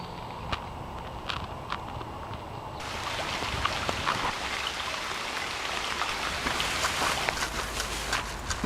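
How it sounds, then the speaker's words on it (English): Light rain patters steadily outdoors at Swan Lake in Victoria, a soft continuous hiss with scattered drops, growing a little denser partway through, with no voices. "a little bit of rain, but not too big of a deal"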